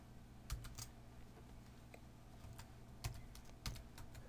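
Computer keyboard keys tapped in a quiet room, a few sharp isolated clicks spread over several seconds with short pauses between, soft and close.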